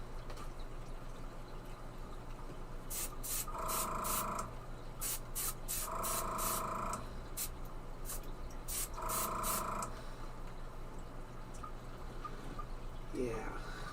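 Short spritzes of yellow spray paint hiss in three bursts, each about a second long, over a holographic ultralight fishing lure, fairly quiet against a steady background hum.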